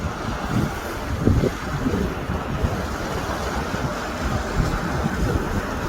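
Sea waves breaking against the rocky shore below a coastal road on Jeju, heard as a steady, loud wash of surf mixed with heavy wind buffeting the microphone throughout, with no voices.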